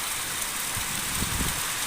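Heavy rain pours outside, heard from inside a house as a dense, steady roar of drops drumming on surfaces, loud and unbroken throughout.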